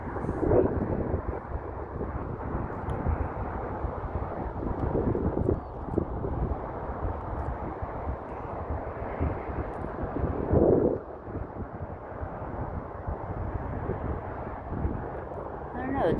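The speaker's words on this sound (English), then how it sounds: "It's a little windy." Wind blowing across a boat out on open water, a continuous low roaring rumble with gusty swells that buffet the microphone throughout, steady and fairly loud with no clear speech.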